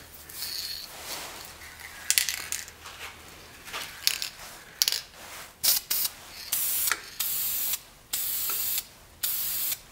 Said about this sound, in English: So I think I'm going to just rotate this by hand and spray my sealer on there.